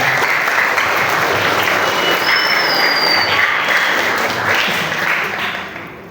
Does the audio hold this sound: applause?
yes